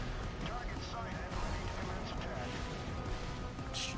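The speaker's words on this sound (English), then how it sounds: "I'm gonna shoot two rockets over there." An Apache helicopter in a flight game fires rockets, giving a few sharp bangs and crashes over a constant rotor roar, while someone talks over the noise.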